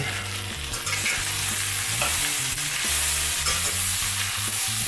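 Ingredients in a pan are stirred for caramelization, the spoon scraping steadily over a continuous sizzle of frying, close and fairly loud with no voices.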